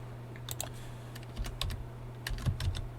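Computer keyboard typing in an office setting, with irregular bursts of light key clicks and occasional louder keystrokes over a steady low electrical hum, no talking.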